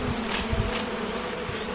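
Agitated honeybees at an opened beehive give a dense, continuous, loud buzzing drone close by, with no speech.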